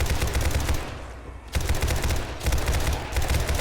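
Rapid bursts of automatic gunfire from overpowered modded guns during a 7 Days To Die horde night, loud dense volleys with a brief lull near the middle, then sustained firing again.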